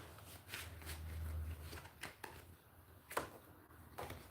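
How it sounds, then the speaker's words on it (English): Tarot cards being shuffled by hand during a reading, faint quick riffling and flicking bursts at close range, with no speech. "I'm gonna shuffle one more time."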